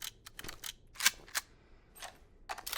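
A handgun being reloaded in Silent Hill 2 Remake: a quick series of sharp metallic clicks and clacks, close and crisp, with gaps between them over a quiet background and no speech.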